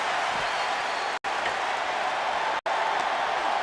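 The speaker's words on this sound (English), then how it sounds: "you hear this capacity crowd following you on that journey" A capacity crowd at a WWE wrestling arena cheers in a dense, continuous roar that is cut by two brief dropouts, loud and sustained throughout.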